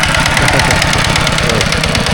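A walking tractor engine runs steadily and close by in a rural Isan village, its loud, even chugging idle-like knock continuing throughout with no talk over it.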